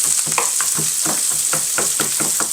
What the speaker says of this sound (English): a sweet onion. So we're just going to saute that all together.